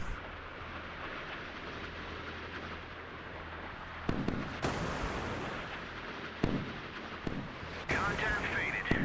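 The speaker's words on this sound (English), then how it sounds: "missiles being launched." Missiles launching in the naval combat game Sea Power: a constant rumbling roar, broken by several sharp, loud blasts spaced a second or two apart.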